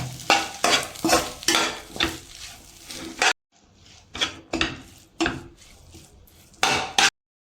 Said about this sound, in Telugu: ఇప్పుడు రుచికి సరిపడ సాల్ట్ వేసుకుందాం కారం ధనియాల పొడి మిరియాల పొడి గరం మసాలా కొద్దిగా చికెన్ మసాలా వేసుకొని కలిపేసుకుందాం